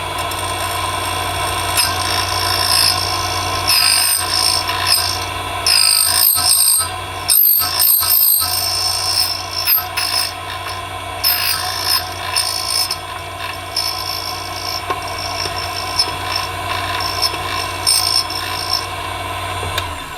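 A JMA Nomad manual key cutting machine grinds an SC1 or H75 key blank, giving a loud, steady mechanical whir and buzzing cut that runs throughout, with brief scraping and clicking interruptions partway through.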